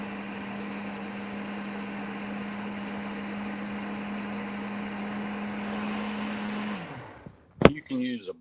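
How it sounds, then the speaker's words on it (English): A blender whirs steadily while mixing a pumpkin fluff drink, a constant mid-pitched motor drone that runs for several seconds and then winds down and stops, followed by a brief clatter and a voice. "I'm just going to blend it"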